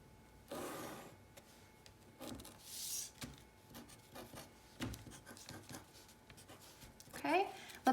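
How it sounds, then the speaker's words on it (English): A pen scratches and rubs across graph paper in short strokes while a coordinate plane is drawn, with quiet pauses between marks, close and soft, and a person talking intermittently. "let me draw my coordinate plane on here"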